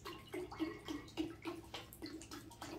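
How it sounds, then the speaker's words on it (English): Ginger ale poured from a liter bottle into raspberry lemonade punch, giving a steady liquid gurgle with repeated glugging pulses, close and fairly quiet, with no talk. "to our raspberry lemonade, we're going to add a liter of ginger ale"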